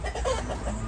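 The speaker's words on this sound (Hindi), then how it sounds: "कितना बड़ा मुर्गा है" A large Kandahari Aseel rooster gives a short series of low, throaty clucks, close by and brief.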